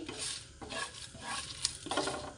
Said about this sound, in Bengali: এগুলো আগে একটু ভেজে নিচ্ছি